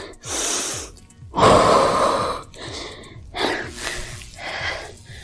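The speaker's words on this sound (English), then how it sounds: "Breathing through the nose, out through the mouth if you want." Slow, audible breaths, air drawn in through the nose and pushed out through the mouth, repeated several times close by with no talking.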